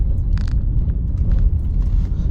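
Trucks pass on a road in a dusty industrial area of Kisumu, heard as a loud, steady low rumble with a few brief higher rattles and clanks over it.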